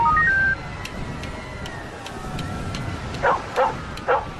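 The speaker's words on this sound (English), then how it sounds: "Cane tapping, seeing eye dog." A seeing-eye dog in Halo 3: ODST gives three short, sharp barks near the end. Before them come a faint beeping tone and a steady ambient hum, with a soft rhythmic tapping running under everything.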